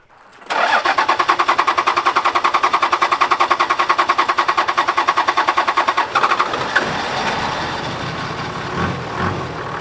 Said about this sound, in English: Seems to be idling right now.